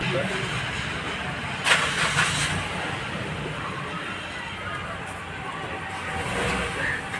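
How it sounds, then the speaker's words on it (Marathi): A car engine cranks and starts with a short burst, then runs with a rough, uneven, misfiring idle over a steady low rumble. "आता मी जेव्हा गाडी चालू करेल तर तिकडे गाडी मिसफायर होईल"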